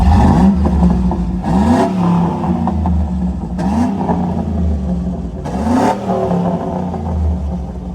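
A 5.3-litre V8 truck engine revs up in several loud, rising surges over a deep rumbling idle, each burst falling back before the next.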